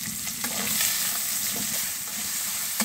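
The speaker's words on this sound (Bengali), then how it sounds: "পেঁয়াজটা একটু ভালো করে ভেজে নেব।" Chopped onions frying in a pan with bay leaf, whole garam masala, cloves and pepper for a chicken and potato curry, giving a steady close sizzle with occasional stirring scrapes throughout, no voices.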